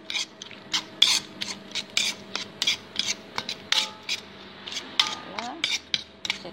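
Rhythmic scraping and clinking as white onion and coriander stems are mixed into a sauce, a steady series of short rasping strokes against a bowl, close and fairly quiet.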